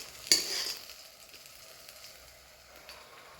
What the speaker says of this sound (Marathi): त्याला असं ब्राऊन कलर येत नाही तोपर्यंत त्याला तेलामध्ये परतून घ्यायचं.